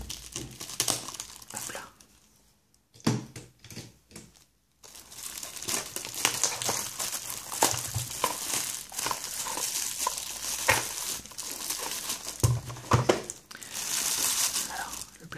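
Plastic wrapper on a Pokémon Neo Destiny deck crinkles and crackles up close as scissors cut it open, dense rustling bursts with brief pauses. A voice speaks briefly.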